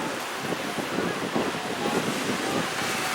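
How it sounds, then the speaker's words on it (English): Ocean waves washing onto a beach in a continuous broad roar, with wind buffeting the microphone and no voices. "check out these waves"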